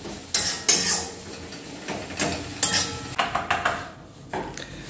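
Poppy seeds being stir-fried with onion in a home kitchen pan, heard as a series of sharp scraping and clinking strokes of a utensil against the pan, fairly close, with no talking.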